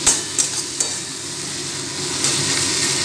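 Bengali mutton curry fries over a high flame: a steady, crackling sizzle up close, punctuated by a few sharp stirring knocks at the start and again near the end, with no one speaking.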